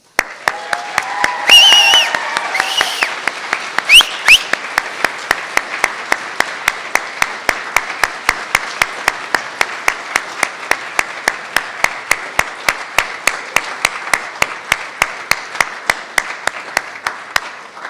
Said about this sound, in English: I want everybody to join me in a warm round of applause